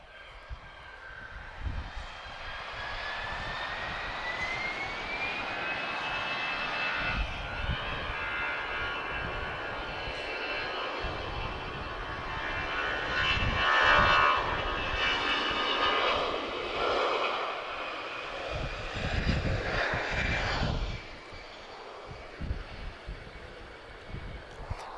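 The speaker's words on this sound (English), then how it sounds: "Nice noisy departure there." Airbus A320 jet airliner roaring during takeoff from Lisbon Airport, a broad rushing engine noise swelling louder midway then slowly fading, with a high whine running through it.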